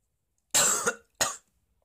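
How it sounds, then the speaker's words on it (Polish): Two sharp coughs from a single person, close and loud, the first longer with a trailing catch, then a brief gap before a shorter second burst, with silence around them. "Kaszel mnie złapał"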